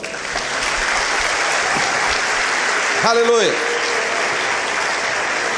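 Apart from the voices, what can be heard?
applause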